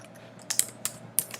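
Typing on a computer keyboard, a handful of quick, crisp key clicks in small irregular clusters, close up and alone against a quiet background.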